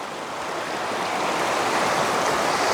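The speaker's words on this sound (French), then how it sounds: "petite cascade ici" Small waterfall in a natural woodland spot, a steady rushing splash of falling water, broad and unbroken, heard fairly close and gradually growing a little louder.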